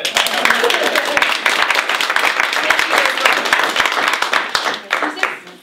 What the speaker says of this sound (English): Let's clap first